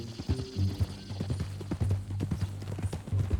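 A horse's hooves clip-clop steadily in Red Dead Redemption 2, a close, even walking rhythm of repeated hoof knocks with a low rumble beneath and no talk.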